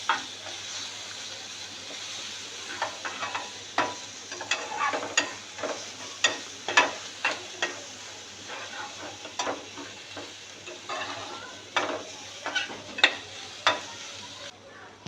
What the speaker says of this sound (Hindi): लहसुन को हमने सौटे कर लिया है।